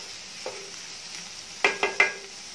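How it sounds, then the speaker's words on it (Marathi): Green onions sauté in butter in a pan with a soft, steady sizzle, punctuated by a few quick metallic clinks of a spoon stirring against the pan. "पाच एक मिनिट याच्यामध्ये कांदा छान परतायचा, म्हणजे याच्यामध्ये तो बटर घेतलंय आपण, लोणी घेतलंय"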